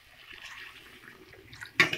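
Water poured into a pot of ghugni, a Bengali dried-pea curry, during home cooking: a short splashing gush near the end after quiet kitchen background, fairly close and moderately loud.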